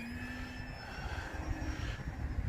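An E-flite Commander MPD RC plane's electric motor at about quarter throttle, a steady whining drone in flight with a faint pitch shift, heard at moderate distance outdoors.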